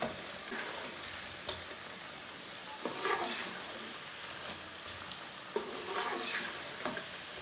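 Egg and cabbage pakoras fry in hot oil, giving a steady, moderate sizzle, with a few soft scrapes and clinks from the spatula turning them at irregular moments.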